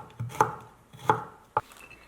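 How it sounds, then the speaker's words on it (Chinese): A knife slices garlic cloves on a cutting board in three distinct thuds, the first two evenly spaced and the third coming quicker, close and clear with no talk. "再准备一小把大蒜，也把它给切成片"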